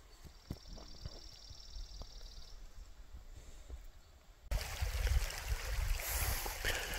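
Winter Creek rushes past a backcountry campsite, a soft steady wash of flowing water that jumps suddenly louder and fuller halfway through, heard close with no voices.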